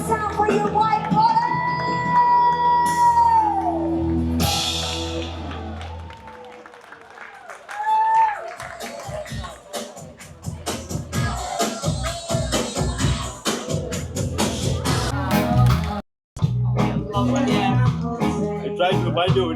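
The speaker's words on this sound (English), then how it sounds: "Let's give it a big round of applause for them." An audience aboard the cruise ship Ovation of the Seas applauds the entertainment staff, a swelling wash of clapping and cheering mixed with music, a host talking over parts of it and a short dropout near the end.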